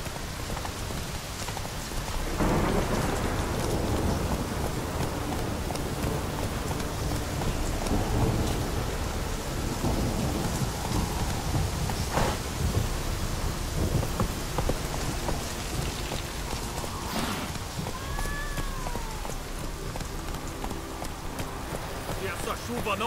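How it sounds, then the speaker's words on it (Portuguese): Heavy rain pours steadily throughout in the video game The Witcher 3: Wild Hunt, in Velen, with occasional rumbles of thunder and sharp splashing hits, and no voices. "Essa chuvarada é uma desgraça"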